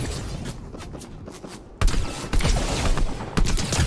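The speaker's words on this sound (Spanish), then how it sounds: "También sé disparar" Gunfire from a Fortnite match, a few quick shots early then a louder volley of bursts from about 1.8 seconds onward, sharp and close with game ambience between.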